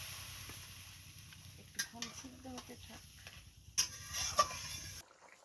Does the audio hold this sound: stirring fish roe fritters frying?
yes